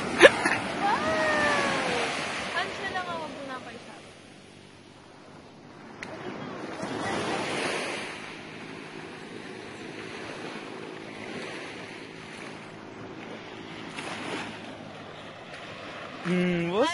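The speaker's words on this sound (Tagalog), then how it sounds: "Dagat." Sea surf washes onto Patungan Beach in uneven swells, with gusts of wind buffeting the microphone and people talking nearby.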